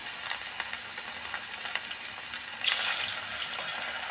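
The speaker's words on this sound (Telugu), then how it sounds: "ఇప్పుడు నూనె బాగా వేడెక్కిపోయిందండి ఒక్కొక్క పీసుగా వేసుకుందామండి" Battered cauliflower pieces for gobi 65 dropped into hot oil, with a soft crackling sizzle that swells into a louder, denser frying hiss partway through, close up and with no voices.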